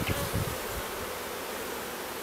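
Honeybees buzz steadily around an open hive while the colony is being split, a dense, close swarm hum that stays even throughout, with a few soft rustles near the start.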